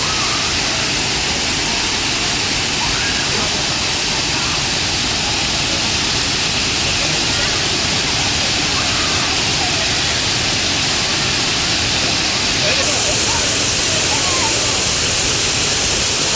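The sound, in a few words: waterfall with strong water flow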